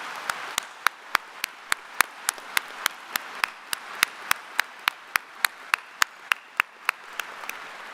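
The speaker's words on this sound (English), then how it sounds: "Let's give our platform party a round of applause." Audience at a university convocation ceremony applauding the platform party, heard as sharp, evenly spaced claps in a steady rhythm of roughly three per second, fairly close and prominent over a quiet hall.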